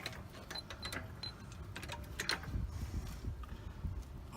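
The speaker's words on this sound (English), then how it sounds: "we're about to jack up the whole hub assembly" A car jack ratchets and creaks as it lifts the hub assembly of a 2003 Acura TL during a coilover install, a faint, uneven mechanical clicking with low thuds nearby.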